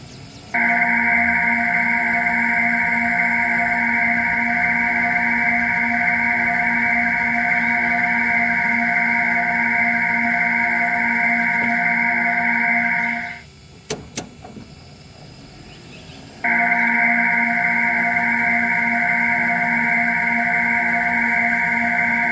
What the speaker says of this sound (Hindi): ये इसको एक कार को, इलेक्ट्रिक इंजन को एक साउंड दे रही है।